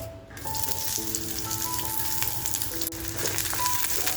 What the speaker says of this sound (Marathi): बघा थोडंसं तेल टाकून आहे ना कांदा आपल्याला छान असा फ्राय करून घ्यायचे.